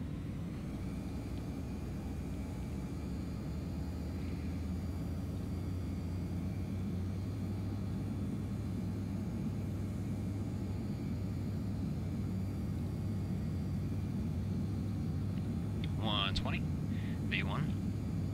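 Bombardier CRJ-900 jet engines throttling up for takeoff in the Prepar3D flight simulator, a steady, low, droning roar held at an even level throughout, with a brief faint chirp near the end.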